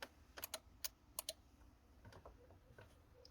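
A pedal adjuster switch in a Chevy Tahoe is clicked several times, producing sharp, close, uneven clicks over low cabin noise, with softer handling sounds afterward.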